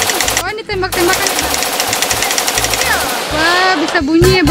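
A toy gun from a display of traditional Indonesian instruments and playthings fires off a fast, rattling burst of clicks that runs nearly throughout, with people talking and a short descending electronic tone near the end.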